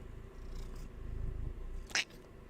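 A house cat purrs softly and steadily close to the microphone, a low rumbling texture with a brief higher-pitched noise near the end and no speech.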